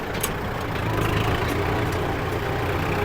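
A Kubota MU4902 tractor reversing in fourth gear over rough ground, its diesel engine giving a steady, close, fairly loud rumble with a constant low drone and no pauses.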